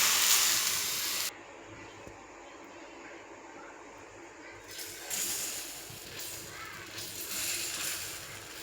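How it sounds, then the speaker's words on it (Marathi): Water sprinkled onto a hot dosa griddle gives a sharp burst of hissing, then a quieter lull, then further rising waves of hiss and sputter. "तवा ठेवला आहे मी, त्यावर थोडंसं पाणी टाकायचं."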